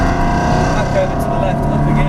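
Ferrari engine pulling hard on the Lydden Hill circuit, a loud, steady in-car drone under a driving instructor's voice, sustained throughout as power is fed in.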